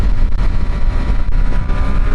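Triumph Street Triple 765 RS Moto2 Edition, 130-horsepower three-cylinder motorcycle in sport mode, holding third gear. It gives a steady, loud engine drone mixed with rushing wind noise that stays constant throughout.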